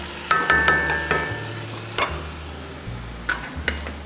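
Adobo sa atsuete frying in a pan as white vinegar goes in, a steady sizzle broken by several clinks and scrapes of stirring, close and with no talking.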